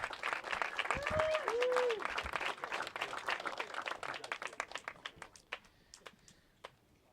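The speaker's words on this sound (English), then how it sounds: "One more round of applause for our entire Masters podium." Crowd applause at the 2014 Sport Kart Grandnationals Finals Masters podium ceremony: dense clapping that thins out into scattered individual claps, with a brief whistle near the start.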